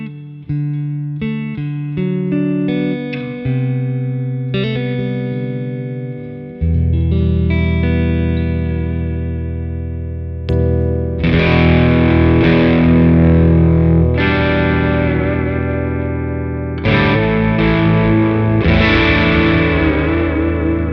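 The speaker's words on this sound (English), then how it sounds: "I try to use it to record a guitar amp with an Electro Voice RE20." Electric guitar played through an amplifier and picked up close by an Electro Voice RE20 microphone, loud distorted chords and sustained notes with effects, ringing out continuously for about twenty seconds.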